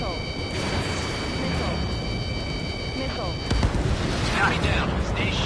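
Missile explosion in Ace Combat 7 during aerial combat, a sharp burst midway followed by crackling debris over steady jet engine noise, with radio chatter underneath.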